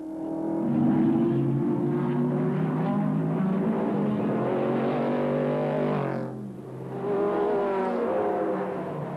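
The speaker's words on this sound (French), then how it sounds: "Ici, sur le circuit d'Albi, la petite Alpine ne peut malheureusement pas faire grand-chose contre les gros sports prototypes." Race cars roar around the Albi circuit, a small Alpine among big sports prototypes, engines loud and revving hard, dipping briefly as one car passes before another surges in.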